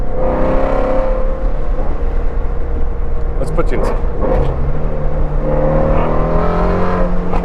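A Ford Mustang Shelby sports car engine drones loudly and steadily in third gear, its pitch climbing as it revs from about 3,500 to 5,500 RPM, while a person speaks briefly over it.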